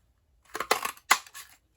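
Scissors cut Petal Pink cardstock for a handmade Valentine card, a few short crisp snips close by in an otherwise quiet room.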